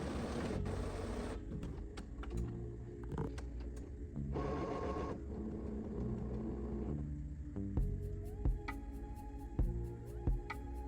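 An inkjet printer works through its startup routine after a cartridge change, with whirring carriage runs, rhythmic mechanical buzzing and sharp clicks and ticks that repeat across the stretch.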